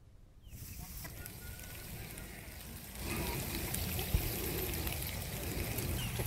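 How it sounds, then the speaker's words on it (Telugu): Torrential rain from a cyclone pours down steadily in Adoni, Kurnool district, a dense broadband wash of water that swells louder about halfway through, with a brief sharp knock near the end. "సైక్లోన్ ప్రభావంతో కర్నూలు జిల్లా ఆదోనిలో కుండపోత వర్షం కురిసింది"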